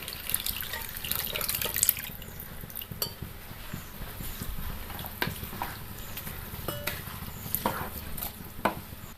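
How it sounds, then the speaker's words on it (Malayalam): Cooked beef gravy is poured into a pot for a Kerala-style meat rice, a steady splashing liquid pour with clinks of utensils and pan, continuous and fairly loud throughout. "അതിലേക്ക് നമ്മൾ മാറ്റി വെച്ചിരുന്ന ഗ്രേവി, ബീഫ് വെന്ത ഗ്രേവി ഒഴിക്കാം."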